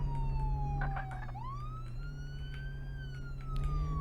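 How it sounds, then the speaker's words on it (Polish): A loud wailing emergency siren from a rescue vehicle in a video game, sweeping up and down in pitch over a steady engine drone, with no talking. "Dobra, włączamy syrenę i lecimy."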